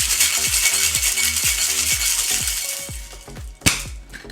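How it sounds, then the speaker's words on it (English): A Mai Tai made with Richley Hogo rum is whip-shaken with a little ice in a big metal tin, giving a steady, loud, close rattle of ice clacks that ends with a sharp crack as the tin is opened. "Give it a nice little whack, and I'm gonna whip shake for about 5 to 8 seconds."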